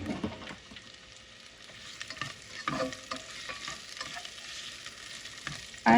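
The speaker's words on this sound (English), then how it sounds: "I like to just saute my onions when I'm doing the escovitch sauce for a little" Onions sautéing in a tablespoon of oil in a pot for escovitch sauce, a soft continuous sizzle with intermittent stirring clinks and scrapes, close and quiet, no voices.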